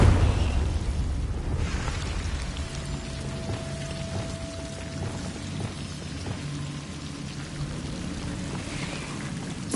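A fiery Confringo blast spell goes off in Hogwarts Legacy, a loud burst opening into a long crackling, hissing roar, with a sustained tone and scattered impacts before it fades.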